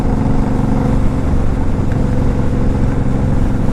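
A Suzuki M109R Boss motorcycle, 2014, with a roughly 2-liter engine, gives off a continuous, loud, low engine rumble that holds steady from start to finish, with no talking.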